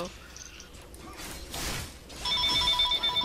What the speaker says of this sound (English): No, phone call.